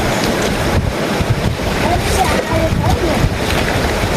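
Wind blows hard outdoors during a riverside fishing outing in Nepal, a loud continuous rumbling gust buffeting the microphone for the whole stretch.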